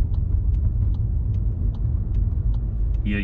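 A car driving on a road during a driving test, heard from inside the cabin: a steady low engine and tyre rumble with faint regular ticking, like an indicator, running throughout.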